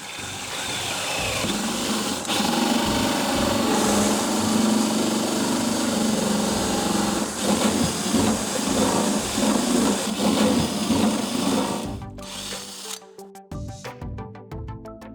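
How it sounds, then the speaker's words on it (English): A power drill with a 38mm hole saw runs continuously with a loud, grinding whine for about twelve seconds, then winds down and stops, leaving scattered clicks and handling noises. "So we're going to drill the hole with a 38mm hole saw."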